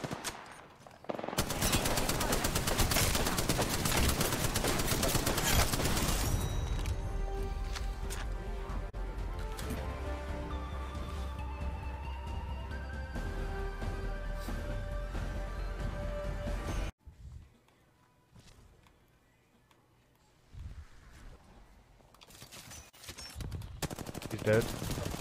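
Sustained automatic gunfire in a battle royale video game, a loud dense rattle of shots close to the listener for many seconds before dropping away, with occasional talking over the game audio.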